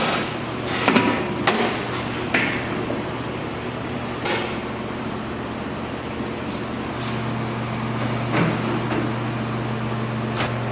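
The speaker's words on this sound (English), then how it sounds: "we're going to go ahead and go to the stuffer now with our product." Commercial meat stuffer machine portioning a Swedish meatball mixture into small balls, giving a steady mechanical hum with a few sharp clanks and knocks early on, fairly close and without talk.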